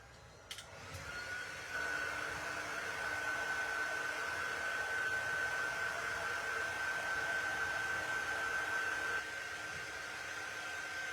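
A hair dryer blows steadily on a freshly washed craft kit frame, starting after a brief click and running as a constant whirring hum with a high whine for most of the clip, then easing slightly near the end; no one speaks.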